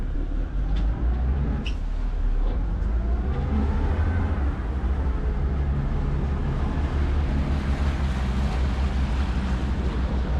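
A motorboat engine hums and churns up close, its pitch shifting as the boat slowly maneuvers sideways under joystick control.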